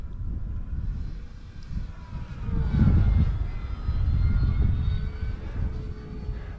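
An E-Flite P-51 1.5 m RC model airplane flies at half throttle and passes by with a steady propeller drone that swells and then fades slightly, heard at moderate distance under some wind with no talking.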